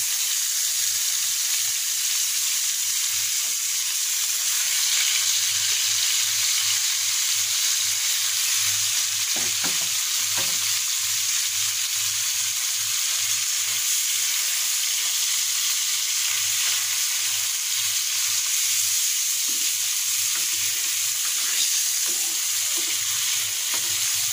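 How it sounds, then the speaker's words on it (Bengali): Fish frying in hot oil in a pan, a loud, steady, close hiss and sizzle that runs unbroken, with a few scraping stir sounds partway through and no talking. "তা আমি এখন মাছগুলোকে ফ্রাই করে নেব।"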